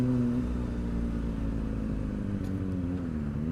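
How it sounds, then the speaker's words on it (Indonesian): Steady engine rumble from a crowd of motorcycles, older CB bikes among them, idling and moving close by, a continuous low drone with slight shifts in pitch. "Wah ini motor-motor banyak banget dari berbagai macam jenis ya."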